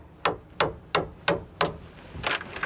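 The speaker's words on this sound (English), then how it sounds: "Let's take a hammer and a screwdriver here and see what some of this wood looks like inside." A hammer drives a screwdriver into rotten, wet transom wood on a boat, five evenly spaced sharp knocks close by, followed by softer scraping and prying.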